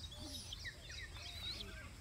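Pigeons and young pigeon chicks cooing and chirping softly, a busy overlapping mix of faint thin peeps and short rising calls over a low background hum, with no speech.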